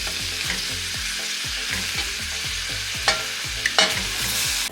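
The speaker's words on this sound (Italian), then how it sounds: "adesso facciamo rosolare per bene le nostre verdure" Sea bream scraps and vegetables sizzle steadily in a pot for fish stock, with a rhythmic series of spoon scrapes from stirring and a couple of sharper clatters near the end.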